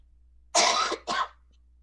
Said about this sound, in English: you're going to have to actually edit out me coughing